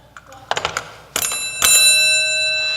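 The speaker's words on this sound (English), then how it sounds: "Ring the bell." A bell rings out in a lecture setting, first a few quick taps, then two louder strikes whose bright tones ring on and slowly decay.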